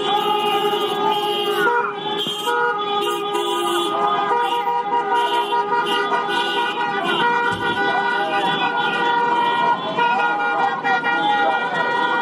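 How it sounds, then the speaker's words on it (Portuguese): Car horns blare in a protest honking rally at the Plano Piloto bus station in Brasília, with overlapping sustained toots and a siren-like wail forming a loud, continuous din of traffic noise. "E os apoiadores do Bolsonaro realizaram buzinaço na rodoviária do Plano Piloto."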